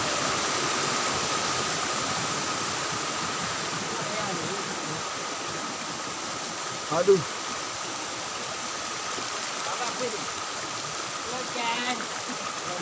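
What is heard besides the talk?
river stream flowing beside the path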